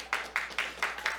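Several slow, separate hand claps ring out at a county board of supervisors meeting, a faint handful of about five claps in a quiet room.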